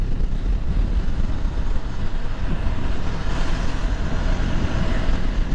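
A KTM Duke 390 motorcycle runs fast at about 140, its engine buried in a constant dense roar of wind and road noise, loud and unbroken for the whole stretch.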